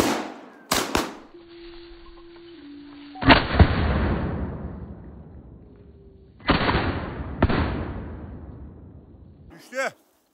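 Shotgun blasts on a woodcock hunt with a setter, several loud sharp reports spaced seconds apart, each rolling off in a long echo across open country, with voices in between.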